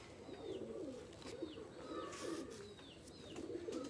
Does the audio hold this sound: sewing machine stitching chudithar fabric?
no